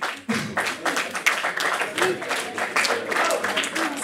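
An audience claps throughout a science week presentation in Vinaròs, steady and moderately close, with some crowd murmur under it.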